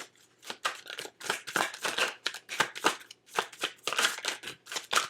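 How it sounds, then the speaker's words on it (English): Traditional tarot cards being shuffled by hand, a fast run of crisp riffling bursts in irregular rhythm, close and fairly quiet with no voices. "just give me a minute here to pull some traditional tarot"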